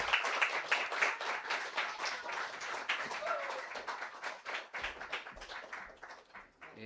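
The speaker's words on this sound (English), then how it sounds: "Let's give him a round of applause once more time" Audience applause for a speaker at a photography studio's fifth anniversary celebration, a steady wash of many hands clapping at moderate level, with a few voices mixed in underneath.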